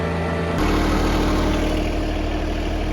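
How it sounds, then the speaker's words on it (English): Garden tiller churning soil for a clover food plot, its engine kicking in abruptly and then running steadily with a loud, continuous mechanical drone close by. "got some bolts for the tiller, so I'm gonna go till it up, get it as fine as I can"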